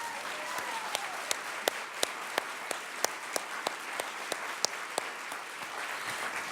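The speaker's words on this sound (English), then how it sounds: "Can we give them a round of applause?" Applause from a small audience at a youth symposium, scattered claps ringing out steadily over a low room hum, moderately close and fairly quiet, with no talking.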